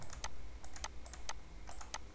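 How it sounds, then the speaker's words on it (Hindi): Quick bursts of keystrokes on a computer keyboard while entering random numbers into JavaScript code, crisp clicks in short uneven clusters, close and fairly quiet over a faint room hum, with no speech. "टाइप कर देते हैं रैंडम नंबर।"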